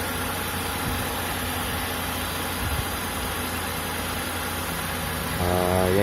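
A Hyundai Eon's engine idling with the hood open, a steady low hum and rumble heard up close, constant in level, with a slight rise in tone near the end.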